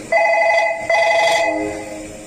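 A telephone rings loudly in two bright electronic bursts, the second trailing off slowly, with no voices over it.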